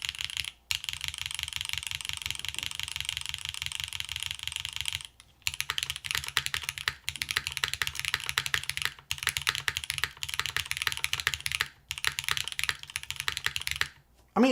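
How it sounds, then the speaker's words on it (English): Typing on a Jahre 65 keyboard with an aluminum plate, GMK keycaps and stock switches: dense, rapid keystrokes clatter close and steady, broken by a few brief pauses, with no talking. "Let's see how this sounds. Aluminum plates. GMK keycaps. Again, these are stock switches."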